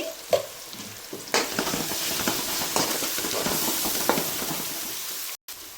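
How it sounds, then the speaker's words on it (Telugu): Ginger fries in hot oil with turmeric in a pan for a Telangana-style fish curry, a steady close sizzle broken by occasional knocks and scrapes of stirring. "అల్లం పచ్చి వాసన పోయే వరకు ఇంతవరకు ఫ్రై చేయండి"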